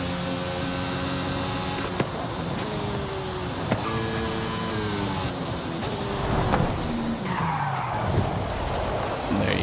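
A Mercedes drifting in the racing game Forza Horizon 5, tires skidding and squealing in long wavering tones over a loud, continuous engine roar, with a couple of sharp knocks along the way.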